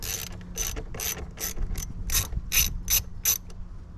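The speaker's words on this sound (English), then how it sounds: "We're going to feed it under the positive terminal here, and I'm going to go ahead and tighten it" A ratchet tightens the bolt on a battery positive terminal while a light bar is installed on a Chevrolet Colorado, producing about nine crisp, evenly spaced clicks up close with no voices.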